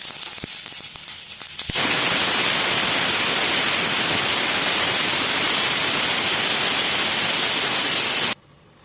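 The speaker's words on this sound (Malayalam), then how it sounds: "ഒന്ന് കടുക് പൊട്ടിച്ചാ കേട്ടോ" Mustard seeds popping in hot oil make a loud, dense crackling sizzle that begins abruptly and holds steady for several seconds before cutting off sharply.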